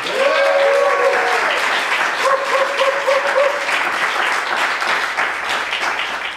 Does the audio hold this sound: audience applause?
yes